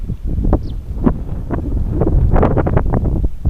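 Strong wind gusts outdoors before rain by a pond, with loud buffeting rushes hitting the microphone in uneven bursts, heavier toward the end and with no talking.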